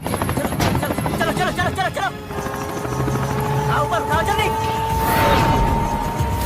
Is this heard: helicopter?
yes